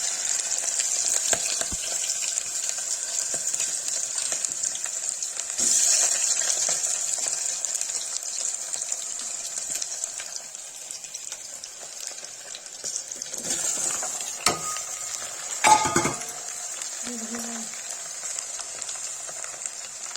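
Green beans hit hot oil in a pressure cooker pot for Kashmiri beans and potato curry, giving a steady bright sizzle with stirring clatters and scrapes near the end.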